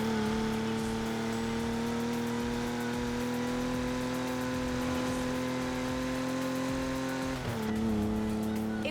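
Jaguar E-Type engine in Forza Horizon 4 droning steadily at near-constant revs, with tire noise underneath, then easing off around the eighth second as the pitch drops.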